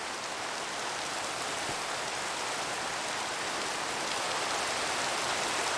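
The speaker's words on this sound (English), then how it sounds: "Ooh, it's raining." Steady rain falls in the video game Minecraft, a soft, even hiss of drops that holds constant throughout with no other sounds.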